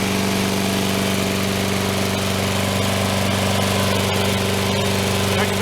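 Sears Craftsman 22-inch Series 650 lawn mower engine running steadily near the listener, a loud continuous drone with a firm low hum and no talking.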